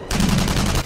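Rapid gunfire from an action scene in the film Captain America, a loud dense burst of repeated shots lasting under a second, close and without talk.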